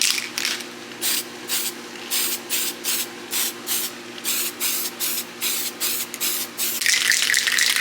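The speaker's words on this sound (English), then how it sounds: "then we're gonna take this tape off on this one and then spray all yellow" Aerosol can spraying yellow paint onto an RC car body in short repeated hissing bursts about a dozen times, then one longer continuous spray at the end, close and fairly loud.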